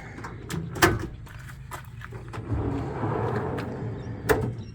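A few sharp wooden knocks and thuds as a pantry pull-out drawer in a travel trailer slides out and bumps, with a soft rumbling slide in between, close by.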